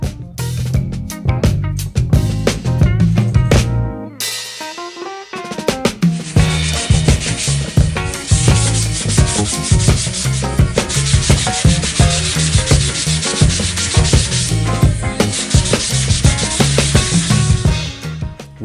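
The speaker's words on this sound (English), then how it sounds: "repeating the process of filling, sanding, repriming and respraying until we get it exactly where we want it" Painted polystyrene sculpture surface being sanded between filling, repriming and respraying for a Tiffany & Co Christmas display piece; steady, loud, continuous rubbing and abrasion close by, with a brief pause early on before resuming for the rest.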